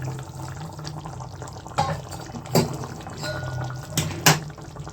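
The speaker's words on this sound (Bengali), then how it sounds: "এবার আমি গরম জল ঢেলছি।" Hot water pours into a Bengali cauliflower pakora curry in a pan, a close, splashing stream swelling in a few louder surges across the pour.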